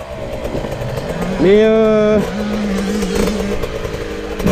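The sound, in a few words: GasGas 300 EC dirt bike engine revving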